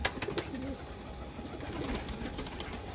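Pigeons in a flying loft give soft, repeated throaty coos, close by and steady, with faint rustling around them.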